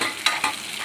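Onions frying in a pan for a curd curry, a steady sizzle broken by two quick scraping stirs of a spoon against the pan.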